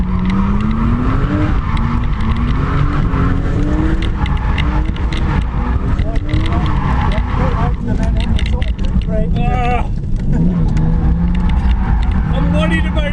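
A turbocharged RB20 engine in a Nissan R32 Skyline drift car revs hard and steadily while the car slides around a course with cones, the engine note rising and falling close by as people talk over it.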